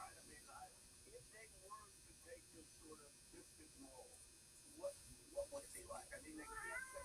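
An indoor house cat meows near a computer desk: a few short, faint meows in the second half, over a quiet room hum.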